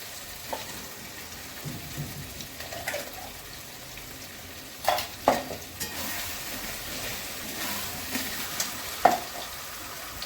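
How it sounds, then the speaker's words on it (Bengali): Spinach paste with green chilli added to nearly cooked chicken and stirred in a pan, a soft sizzle under scattered scraping and clinking of the spoon, close by. "এবার আমি পালং শাকের পেস্টটা দিয়ে দেবো"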